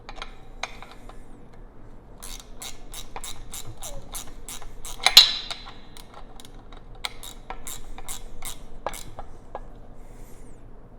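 A hand wrench ratchets on the bolts of an off-road modular rear bumper on a Lexus LX470 / Land Cruiser, giving rapid regular clicks in bursts close to the mic, with one sharper metallic clank midway and no talking.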